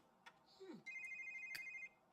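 Phone ringing in the video game The Sims 3, a quiet electronic ringtone holding a steady high tone for about a second, with soft game sound effects just before it.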